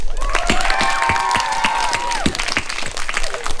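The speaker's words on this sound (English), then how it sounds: "I would like you all to give one last cheer for the beginning of the Olympics" Children cheer, shriek and clap at a school Olympic Games opening ceremony, a loud, sustained burst of crowd noise with high, wavering yells that fades into scattered applause.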